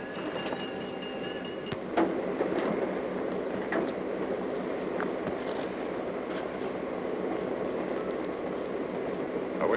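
Steady low rumble of a train rolling along, with a continuous broadband roar and a few faint clanks and squeals, no talking.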